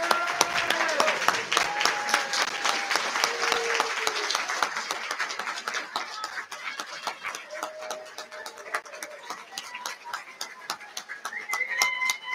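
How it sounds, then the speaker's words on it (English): Closing round of applause at a graduation commencement for master's graduates, a steady wash of clapping that slowly fades over several seconds, with birds cooing and chirping faintly alongside. "one last round of applause for our world language grads and all of our graduates"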